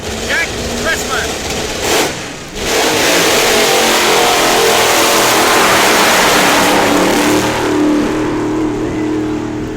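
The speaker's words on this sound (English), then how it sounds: "out here now for a tire-smoking, high-winding run in a supercharged, fuel-injected, fuel-burning Comet Caliente is Jack Chrisman." A supercharged, fuel-injected, fuel-burning Comet Caliente drag car roars down the strip at high revs, loud and sustained, with an announcer talking over the engine.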